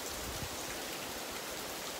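Heavy rain pours onto the deck of a tiny house, a close, dense and unbroken roar of drops that stays loud and even throughout.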